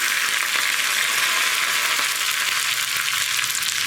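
Three dried red chillies and curry leaves frying in hot tempering oil for a Kerala mango curry, a loud, close, unbroken sizzling hiss with no one speaking.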